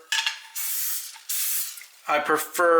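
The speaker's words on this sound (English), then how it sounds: "spray oil, and it is super simple to use" Two hissing bursts from an aerosol can of cooking spray oil, followed by a person speaking up close.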